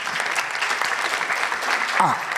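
Audience applause fills a quiz competition hall as a sponsor's CEO is welcomed to the podium, a steady dense clapping wash with a voice cutting in near the end.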